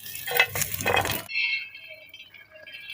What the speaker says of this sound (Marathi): थोडेसे शेंगदाणे लसूण पाकळ्या टाकू दोन अद्रकीचे तुकडे थोडे जिरे कोथंबीर चांगले परतून घेऊ